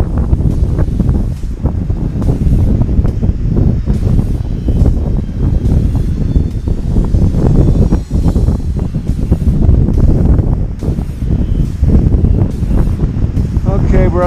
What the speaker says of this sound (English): Still windy, waiting for that wind to die down.